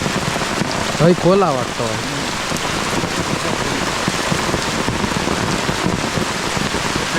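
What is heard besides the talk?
rain falling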